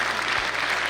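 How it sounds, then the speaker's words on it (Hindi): A brief, dense wash of audience applause at a literature festival, steady and moderately loud for about a second. "एक बार जोरदार तालियां दें हमारे मेजर साहब के लिए"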